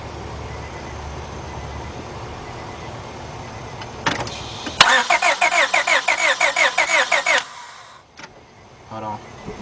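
A 2002 Honda Accord with a 2.3 engine cranks without starting, its starter whirring in a steady rapid rhythm for a few seconds before cutting off, with a short second crank attempt following, close by amid faint outdoor background.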